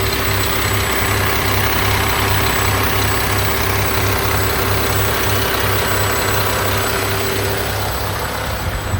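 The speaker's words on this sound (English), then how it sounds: "I'll show you the engine again." A 2009 Mack MRU613 40-yard garbage truck idles with a heavy, steady low-pitched diesel throb and a faint constant whine, continuous and close for the whole span.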